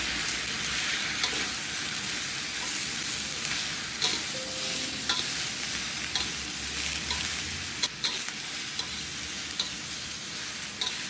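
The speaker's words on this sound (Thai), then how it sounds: "ใส่ลงไปเลยค่ะ ต้องใช้ไฟแรงนะคะ ผัดผักเพราะเราจะผัดผักไม่นานค่ะ" Cabbage stir-frying in a pan over high heat, a loud continuous sizzle with periodic scrapes and taps of the spatula, close and uninterrupted by speech.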